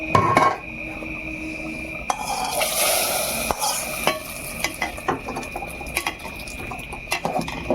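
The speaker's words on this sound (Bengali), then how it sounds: "কটা গোটা গরম মশলা, তেজপাতা আর আমি শুকনো লঙ্কা তেলের মধ্যে ফোড়ন দেবো।" Whole garam masala, bay leaves and dried red chilies crackle and sizzle in hot oil, with a spoon stirring and scraping the pan in irregular close knocks over a steady fry hiss.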